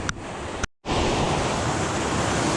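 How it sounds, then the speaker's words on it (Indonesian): A constant roar of rushing waterfall water at Curug Badak, Santanamekar, Tasikmalaya, fills the scene, broad and loud, briefly cut off by a short gap before resuming unchanged. "Di situ air terjun."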